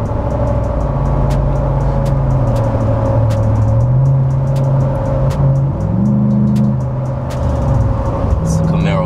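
A Ram 1500 pickup accelerating in sport mode, a loud close engine drone that climbs in pitch through shifts and steps back, heard from inside the cab with occasional clicks.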